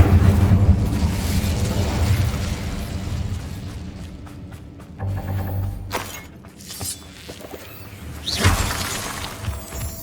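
Fire spell cast in Hogwarts Legacy on PS5, a loud bursting whoosh amid dense battle effects and music, with several sharp impacts and a bright flare near the end.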